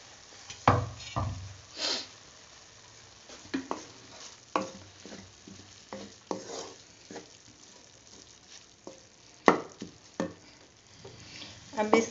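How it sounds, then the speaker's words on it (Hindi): Minced meat keema sizzles in a pan over a medium flame, stirred with a spoon that scrapes and knocks in irregular bursts against a soft steady frying hiss. "अब इसको हम मीडियम फ्लेम करके भून लेते हैं।"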